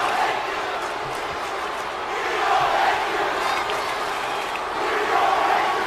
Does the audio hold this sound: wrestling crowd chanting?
yes